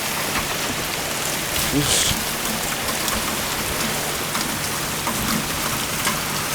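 Steady rain patters and hisses on surfaces all around, a constant wash of drops with a brief voice speaking faintly near the start.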